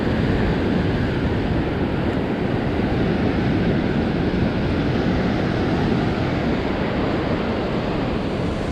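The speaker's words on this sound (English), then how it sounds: "The waves come in here hard at times." Ocean waves surging in hard at Laguna Beach, a steady, loud rushing wash of surf with wind noise buffeting the microphone throughout and no pauses.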